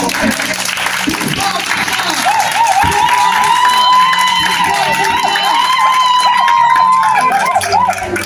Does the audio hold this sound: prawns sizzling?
no